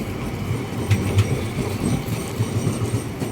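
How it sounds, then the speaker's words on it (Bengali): A tram in Liège rumbles steadily close by, with a low continuous drone and a few rhythmic clicking wheel beats, and no voices. "এই যে লিয়াজের ট্রাম"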